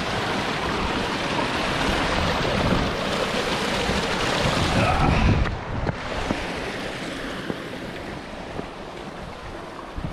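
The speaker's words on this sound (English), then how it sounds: "Waterfall! This could technically be 6 falls." Rushing water from a small waterfall in a Texas slot canyon, a steady broadband roar close by, mixed with wind buffeting the microphone.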